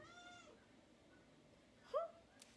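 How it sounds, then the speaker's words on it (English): A house cat gives a single short meow partway through, faint and somewhat distant over a low steady background hum, with a brief soft earlier cry. "There's my cat."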